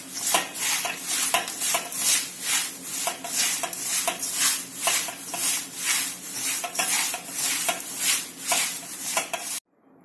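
A spoon steadily stirs a raw chivda snack mixture in a bowl, making close, rhythmic scraping and rustling strokes about once a second that stop abruptly at the end.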